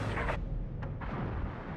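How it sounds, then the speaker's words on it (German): Battleship New Mexico firing in World of Warships: a heavy, booming gunfire rumble with a brief crack near the start, deep and sustained, fairly quiet overall, with no speech. "Das war ein guter Schuss."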